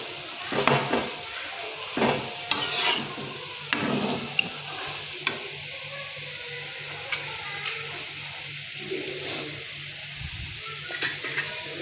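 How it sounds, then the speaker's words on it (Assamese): Food frying in a pan while being cooked with soybean, a steady soft sizzle with intermittent scraping stir strokes and light clinks of utensils throughout, no talking. "অলপ ভাজি ল'ম মই"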